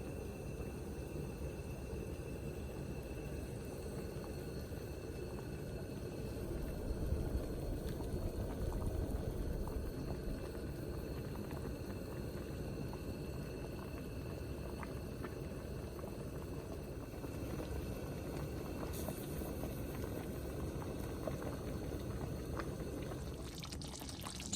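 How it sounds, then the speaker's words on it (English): A pot of broth with chicken bouillon for barbacoa bubbles at a steady boil, a soft continuous rolling burble with faint pops, fairly quiet and unbroken from start to finish. "we're going to bring this up to a boil, and once it boils, we're going to turn it to a medium-low heat"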